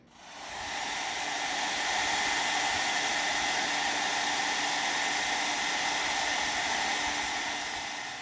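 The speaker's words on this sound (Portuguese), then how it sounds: "Passa o secador e a mágica acontece." A hair dryer blowing on a plastic pot switches on and roars with a steady loud whooshing hum and no talk.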